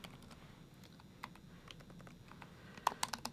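Computer keyboard typing Python code into a notebook cell, soft, scattered key taps at low level over a faint background hum, ending in a few firmer, louder keystrokes.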